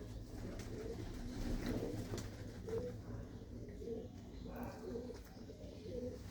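Dodhar pigeons perched at a home loft give repeated low, throaty coos in a soft rolling rhythm, close by but gentle, with someone talking intermittently over them.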